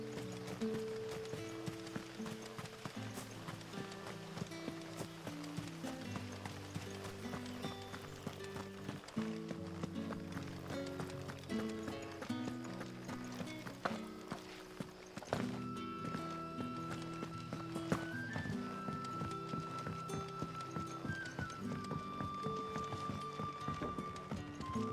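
A ridden mount's hooves clip-clop in a steady running rhythm in Final Fantasy XVI, mixed under a continuous musical score throughout.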